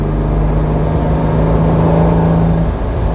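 A restored 1957 Lancia Aurelia B24 S convertible with its 2.5-litre V6 revving, a loud, steady engine drone held close with a sustained tone that lifts slightly before easing off near the end.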